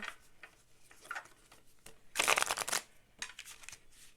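A deck of tarot cards is shuffled by hand in soft, scattered bursts of papery riffling, with one louder flurry in the middle.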